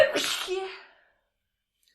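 A single sharp sneeze close to the microphone that fades within a second, followed by silence, with a brief spoken word.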